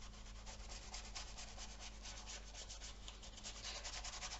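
Yellow ochre wash is rubbed into a painting with a continuous, faint dry scrubbing, quick even strokes repeating close up with no talking.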